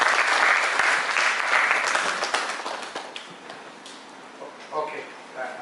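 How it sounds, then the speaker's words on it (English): A seminar audience bursts into loud applause welcoming a speaker, gradually thinning out, with scattered claps and murmuring voices at the end. "Please give a big round of applause and welcome a speaker."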